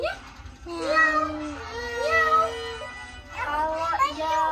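A voice imitating a cat, producing a few drawn-out meows one after another, close and clear, with some adult speech around them.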